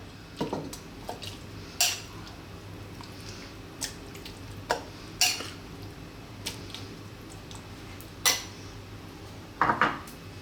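Curry spooned into a large pan that previously held cooked rice, heard as scattered clinks of a metal spoon against the pan and soft wet plops, spaced irregularly over a quiet kitchen background.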